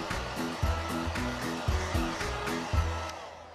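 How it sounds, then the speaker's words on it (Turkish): A hair dryer blows steadily over a paper-covered balloon, a loud continuous whoosh with a low rhythmic pulsing hum running through the whole stretch. "O yüzden saç kurutma makinesiyle bunu biraz kurutacağız."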